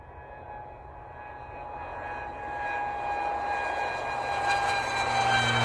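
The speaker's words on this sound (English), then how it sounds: "It's an airplane" A fixed-wing airplane passes with a steady engine drone and a sustained whine that grows gradually louder over several seconds, with no voices.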